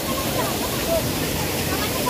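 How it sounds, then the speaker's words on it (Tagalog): A small man-made waterfall at a resort in Bataan pours as a steady, broad rushing hiss, fairly close, with a voice speaking over it. "man-made rin siya, guys. Gagmay nga falls."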